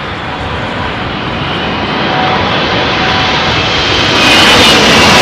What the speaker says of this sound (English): What a fine landing.